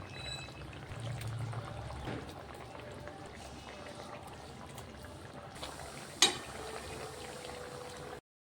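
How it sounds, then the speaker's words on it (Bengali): A little water is poured into a pan of mustard-poppy egg curry, giving a soft liquid pour and simmer under low background noise, with one sharp clink partway through. "এবার আমি সামান্য জল দিয়ে দিলাম"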